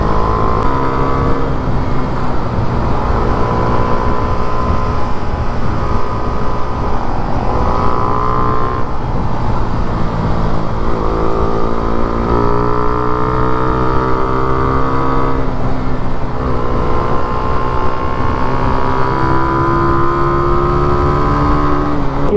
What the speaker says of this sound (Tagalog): hinihingal yung motor natin kakahabol